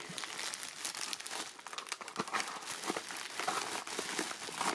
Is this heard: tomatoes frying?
no